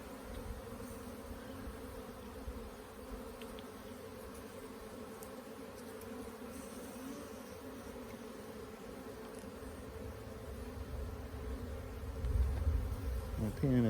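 Honey bee swarm buzzing steadily while being rehived beside a hive being fitted with honey supers, a dense continuous hum that swells louder near the end.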